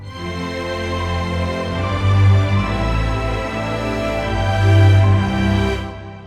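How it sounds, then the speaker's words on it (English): A rough orchestral passage plays a repeating piano and flute ostinato over horns holding a sustained counter melody. The texture is dense and evolving, swelling and fading in waves before cutting off near the end. "adding in this little ostinato that I just recorded in the piano and some flutes"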